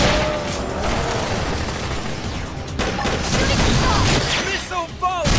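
Fire Carnival attack in Xenoblade Chronicles X: a loud, sustained barrage of rapid fire and booming impacts during battle, with voices talking over the clatter throughout.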